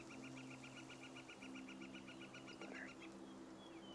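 A bird, probably a rooster or other fowl, calls loudly and repeatedly in the background in a steady pulsing series, sitting over a constant low hum with no talking.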